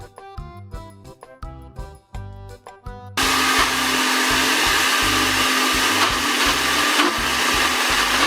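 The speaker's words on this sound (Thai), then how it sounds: "ค่อยๆ ปั่นนะคะ ให้เข้ากันเลยค่ะ" A blender whirs loudly at a steady high pitch as it blends a banana ice cream mixture, starting abruptly after a few seconds of clinking and setup noises.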